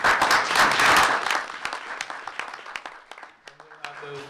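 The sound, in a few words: applause at a board meeting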